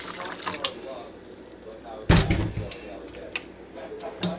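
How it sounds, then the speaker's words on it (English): Cold tap water is poured into a pot while making sweet tea, a short, loud splashing gush about halfway through over quiet room noise. "And I pour my water right in this pot again, this cold water."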